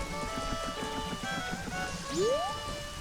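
Rain in The Legend of Zelda: Majora's Mask forms a soft, steady patter under the game's tonal music, with a rising synthetic whoosh partway through.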